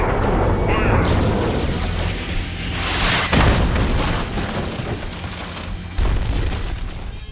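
Weapons fire and explosions in a Robotech video game, heavy booming blasts and rumbling bursts layered over a dense, roaring wash of noise, with a voice talking over part of it.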